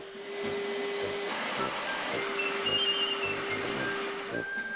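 A vacuum cleaner runs with a steady whine and hiss, a continuous mechanical drone with a few faint higher tones above it.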